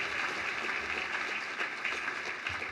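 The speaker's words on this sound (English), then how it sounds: "If we could have another round of applause for the mayor." Applause for the mayor at a housing awards luncheon, a steady wash of clapping from a crowd in a hall, moderately distant and unbroken for the whole stretch.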